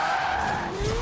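Tire skid from a Mazda RX3 drifting in Forza Horizon 4, a steady, loud squeal with a gliding tone that holds for about a second, with no talk.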